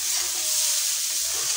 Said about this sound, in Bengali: চালটা দিয়ে কিছুক্ষণ ভালো করে নাড়াচাড়া করে নেব।